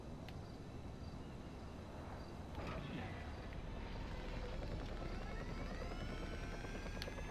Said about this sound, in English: I hear a helicopter.